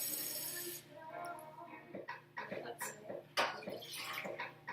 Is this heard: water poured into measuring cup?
yes